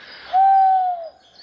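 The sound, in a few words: owl hooting in woodland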